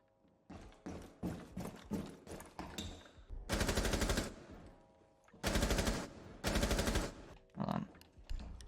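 Gunfire in the video game Rainbow Six Siege, with rapid automatic bursts in several loud, dense volleys separated by short pauses and quieter single clicks between them.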